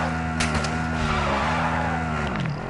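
A damaged ATV in Call of Duty DMZ revs loudly with its engine droning steadily and tires skidding and squealing, close and continuous from start to finish.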